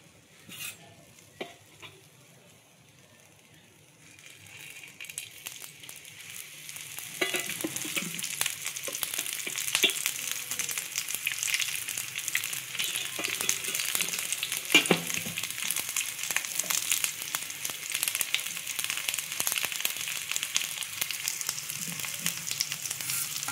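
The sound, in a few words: sautéing egg mixture in hot oil in a pan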